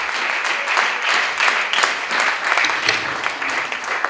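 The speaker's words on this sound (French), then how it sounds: "On va acclamer le Seigneur notre Dieu." A church congregation applauds and acclaims God with sustained loud clapping and cheering voices, a dense wash of hands and shouts rising and falling throughout.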